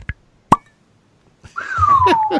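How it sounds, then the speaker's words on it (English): A cork pops once, sharp and close, from a bottle of straight rye whiskey. After a short pause a gliding, whistle-like vocal sound follows. "I haven't opened this yet. So this is a straight rye whiskey."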